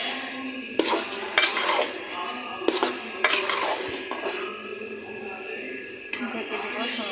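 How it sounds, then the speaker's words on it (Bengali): A spoon stirring bhuna khichuri in a metal cooking pot, several sharp scraping clinks against the pot's sides at irregular intervals, close up. "আমি খিচুড়িটাকে আবারও নাড়া দিয়ে দিব"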